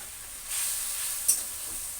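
Fish curry spices with turmeric sizzle in a hot pan, a soft, close hiss that swells briefly with a small crackle.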